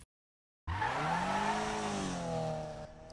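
A Subaru BRZ with manual shifting is driven in Need for Speed 2015, bursting in abruptly after silence with a loud, close engine roar that climbs steadily in pitch and then eases off, with no talk.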